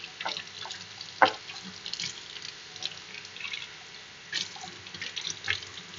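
Warm water runs steadily from a kitchen sink tap while a magic eraser is wetted under it, a continuous gentle stream with occasional splashes and drips, no talking.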